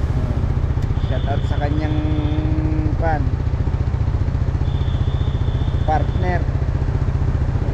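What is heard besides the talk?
motorcycle riding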